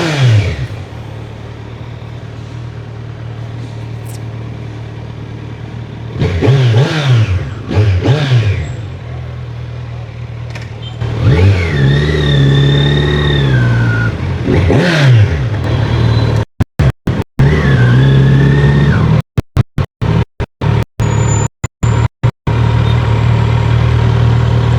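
Kawasaki Z900 SE 2025 big bike engine on a road test, rising and falling through loud revs and accelerations with steady running between pulls, close to the microphone and broken by brief dropouts near the end.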